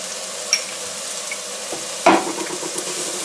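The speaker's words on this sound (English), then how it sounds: "the pan's hot enough, the oil is, so I'm going to put my onions in" Chopped onions and then garlic hit hot oil in a pan, setting off a steady close sizzle with sharper bursts as each batch lands, ingredients for a Greek spaghetti and meatballs dish.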